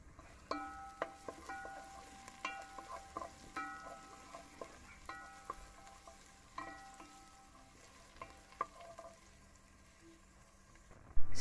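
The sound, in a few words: ginger, thyme and pimento seeds frying in a pan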